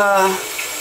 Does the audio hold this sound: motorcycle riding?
no